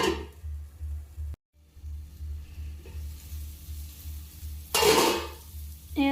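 Tomato and egg curry cooking in a pan, with a steady low sizzle and hum, a short break, then a loud clatter as the lid goes on, followed by a faint ring of metal.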